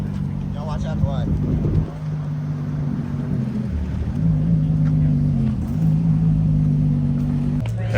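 Pagani Zonda Aero supercar driving on a public road during Car Week, its engine a steady loud droning rumble with shifting pitch, under crowd chatter and voices throughout.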